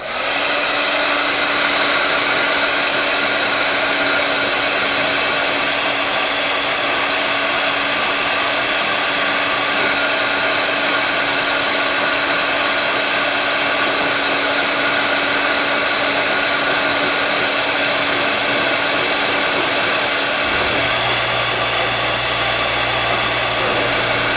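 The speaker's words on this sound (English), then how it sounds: "You're going to need your heat tool because you're going to want to dry these" A heat tool blows continuously to dry craft flower pieces before hot gluing, a loud, steady close whirring hiss that holds for the whole stretch and shifts pitch slightly near the end.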